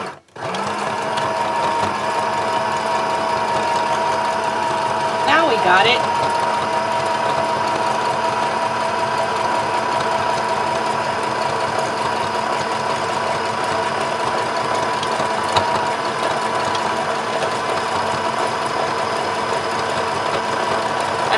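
Sewing machine running steadily as it stitches fabric pieces of a tote bag, a continuous close mechanical whir with a brief change near the middle and a short spoken remark at the start.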